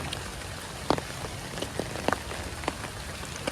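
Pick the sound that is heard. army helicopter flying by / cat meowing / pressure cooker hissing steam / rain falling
rain falling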